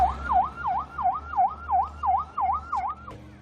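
A wailing ambulance siren in Gaza City rises and falls in a rapid, regular yelp, about eight cycles, clear and fairly close with a low engine hum beneath.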